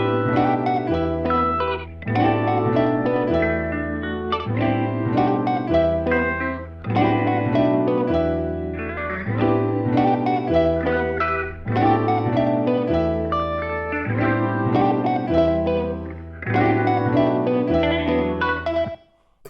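A music mix with piano plays steadily in repeated chord phrases, loud and full, first dry and then with reverb added, with short breaks between sections.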